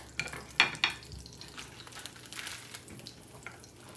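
Vegetables sizzle quietly in a frying pan still holding the juices from fried cheesesteak meat, with a few sharp clinks and scrapes of stirring up close.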